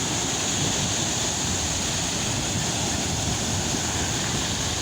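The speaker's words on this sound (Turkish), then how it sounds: "Deniz çok dalgalı" Steady, loud roar of rough lake water at Edremit, Van, with waves churning continuously, wind buffeting the microphone, no voices.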